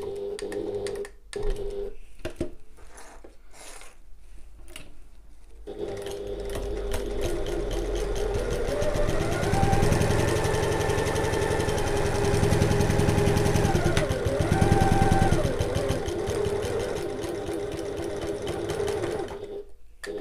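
A sewing machine back stitches a bag seam at regular stitch length, opening with a few short bursts and then running steadily and loudly for most of the stretch, with the motor pitch rising and dipping.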